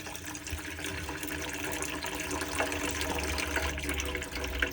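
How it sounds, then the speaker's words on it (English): Water runs steadily from the hot side of the tap in an Autocruise Starfire motorhome, a continuous close rush with even pressure and no sputtering or talking. "make sure that we get some pressure coming through on the tap"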